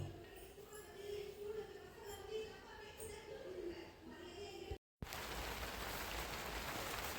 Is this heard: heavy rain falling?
yes